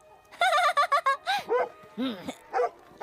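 Several dogs bark and yelp in quick bursts, close and loud, with a rapid run of barks followed by separated howling yips.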